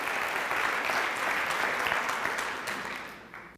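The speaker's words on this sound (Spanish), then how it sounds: "Un fuerte aplauso para el señor Holton." Steady applause from a large crowd, dense and sustained, fading slightly at the end.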